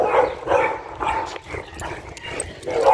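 Pit bull-type dog out on a street walk in a muzzle, producing muffled barks and whimpering yips in short bursts, moderately close, over outdoor street noise.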